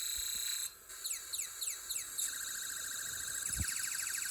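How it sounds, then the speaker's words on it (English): An electronic sound effect from a Snap Circuits integrated circuit: a warbling, siren-like tone that sweeps repeatedly up and down, shifting pattern as the light on a photoresistor changes, with a few faint clicks. "shining light on the photoresistor changes the sound effect from the IC."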